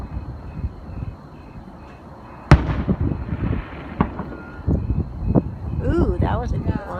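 Fireworks at a Fourth of July display burst with a sharp loud bang, followed by scattered crackling pops and further booms over steady background noise and nearby voices.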